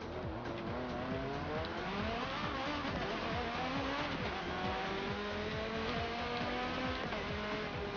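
Cars in Forza Motorsport 7 racing, with engines droning and shifting pitch while tires squeal and skid under hard braking, a dense continuous mix of loud motor whine and screeching rubber.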